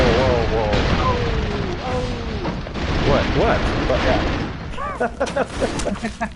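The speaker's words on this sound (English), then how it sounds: "There's a lot of explosions." Loud, chaotic explosions and bursts of gunfire in the 2D action game Broforce pile up in rapid succession, while voices chatter over the din.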